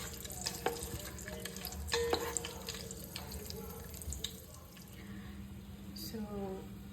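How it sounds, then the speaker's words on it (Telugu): Mushrooms sautéed and stirred in a pan for a brown-rice mushroom biryani: a soft frying hiss with spoon scrapes and clinks, and a brief watery run near the end, quiet overall. "ఇలా ఒక 2 మినిట్స్ ఇట్లాగా సాట్ చేయండి. ఇలా కలుపుతూ ఉండండి 2 మినిట్స్."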